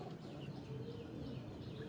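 Andhra pigeons coo softly at home, a faint, low, continuous murmur over a hushed background.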